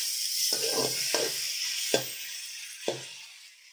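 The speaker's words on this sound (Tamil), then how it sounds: "நம்ம கட் பண்ணி வச்சுருக்க டொமேட்டோவை சேர்க்கலாம் நல்லா மிக்ஸ் பண்ணுறேன்" Chopped tomatoes being stirred and sautéed in a pan, a constant hiss of sizzling with four distinct scraping stir strokes spaced about a second apart, close by.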